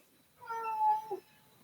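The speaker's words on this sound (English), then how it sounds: "And the cat is going to chime in." A house cat lets out a single clear meow lasting under a second, fairly close and moderately loud, rising and then dropping with a short chirp at the end, against a quiet room.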